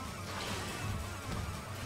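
A sustained, dense plasma cannon blast in Metroid: Other M, with heavy low rumble and bright crackling hiss, steady and loud for about two seconds.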